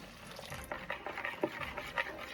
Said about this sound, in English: I'm stirring in a 1/2 cup of cold water.